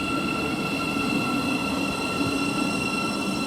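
A Thameslink Class 700 train on a service to Bedford pulls into West Hampstead station, giving a steady, loud, close rumble with a sustained high electric whine throughout and no voices.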